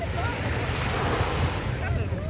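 Sea waves wash onto a beach in Dubai, a steady loud rush of surf with wind buffeting the microphone throughout.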